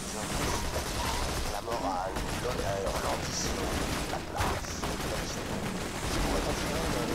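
Machine gun fire in the video game Borderlands 2 rattles in rapid bursts amid dense game effects and mechanical clatter, while players talk over the action.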